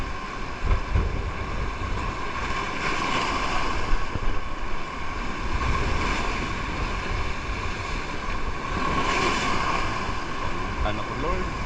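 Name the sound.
ocean waves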